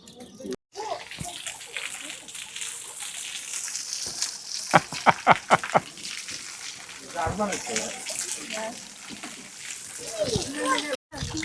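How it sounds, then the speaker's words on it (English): Water from the garden fountains at Alfabia Gardens in Mallorca splashing and spattering in a steady wash, with a run of brief bursts in the middle and people talking nearby. "the fountains are going off now, so it's just a few splashes around the ankles"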